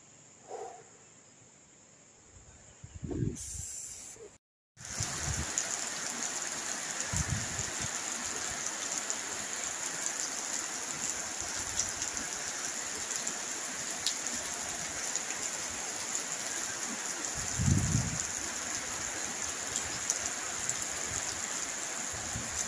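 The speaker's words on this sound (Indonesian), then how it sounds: "Ini lagi musim hujan." Rain in the rainy season in Bone-Bone village, Enrekang, falling as a steady, even hiss for about twenty seconds after a brief quieter start and a short gap, with occasional low thumps of drops.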